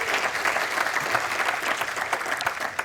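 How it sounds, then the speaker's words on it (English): A meeting audience gives steady applause for Anya, sustained clapping from many hands that fills the room throughout. "Yes, applause for Anya."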